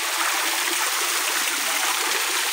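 A small waterfall pours into a stream, producing a steady, loud broadband rush of falling and flowing water with no pauses.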